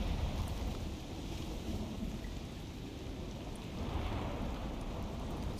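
A video game thunderstorm in Unearthed, with steady heavy rain and a deep rolling rumble of thunder underneath, a dense constant wash of sound with no voices.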